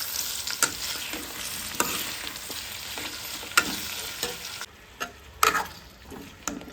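Paneer tikka mixture stirred in a frying pan, close sizzling with scattered clicks and scrapes of a spoon, the frying hiss dropping off midway and then returning briefly.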